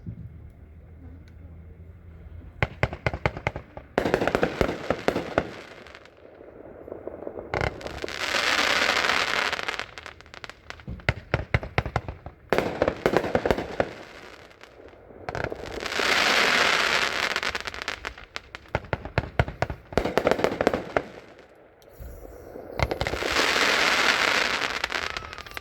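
A Brothers High and Mighty 45-shot firework cake fires in bursts of rapid launch thumps, each followed by long crackling, sizzling breaks, repeating in several waves at moderate distance with no talking.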